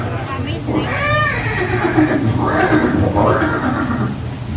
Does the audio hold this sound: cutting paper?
no